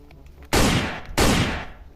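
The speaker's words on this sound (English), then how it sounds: "And it's also Captain America gun." Toy Captain America gun firing two loud electronic blasts, each a sudden harsh burst that fades over about half a second, close up with no talk.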